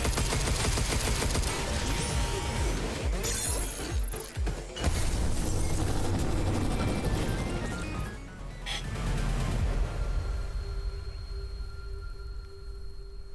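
Heavy, sustained gunfire fills a combat sequence in the video game Pragmata, dense rapid bursts with crashes and impacts, thinning out near the end into mechanical ringing.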